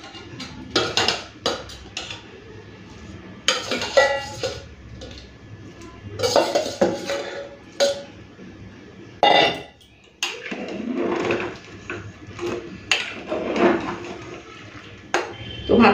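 Fried potatoes go into a pot of thin mutton curry and are stirred in, with irregular clanks and scrapes of a spoon against metal and short wet splashes, close and fairly loud.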